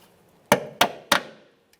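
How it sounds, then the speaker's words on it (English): Three crisp hammer taps on a metal brake flex hose clip on a 2014-2018 Mazda 3, evenly spaced and close, each ringing briefly before fading, with a faint click afterward. "You may have to tap this in with a hammer."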